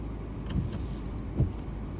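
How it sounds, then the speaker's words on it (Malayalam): A car's windscreen wiper blade, two years old and never replaced, sweeps rainwater off the glass. Two soft swishing strokes pass about a second apart over a steady low vehicle hum. "ജസ്റ്റ് ഒരൊറ്റ വൈപ്പിൽ തന്നെ ഗ്ലാസ്സിലെ കംപ്ലീറ്റ് വെള്ളവും പോയി"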